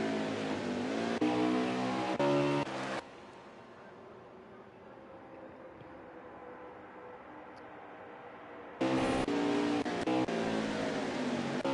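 Race truck engine rolling down pit road at The Glen in a racing video game, a loud full-band roar at the start and end with a quieter, steady low engine hum in between.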